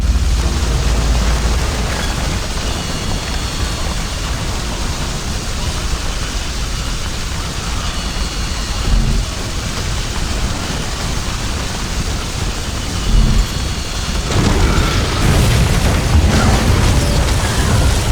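Blast aftermath in the Max Payne 3 video game: a loud, sustained roaring rumble like fire and debris, continuous and dense, swelling again near the end with no talk.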